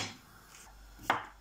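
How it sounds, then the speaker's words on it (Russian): A knife slices young zucchini on a cutting board, with one crisp chopping thud near the end after a soft scraping lead-in, close and quiet. "700 грамм кабачков молоденьких быстренько нарежем ломтиками"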